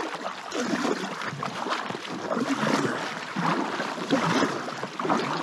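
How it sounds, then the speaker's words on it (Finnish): Strong river current rushes and gurgles around an inflated packraft on a wilderness river crossing in Finnmark, a steady, fairly close wash of water with no voices. "Onko kovaa virta kyllä tässä?"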